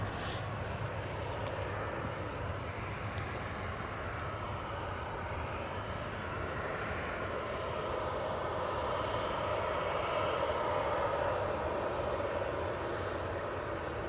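A United Airlines jet at Edinburgh Airport produces a steady, broad engine roar that holds for the whole stretch, heard from a distance with no talk.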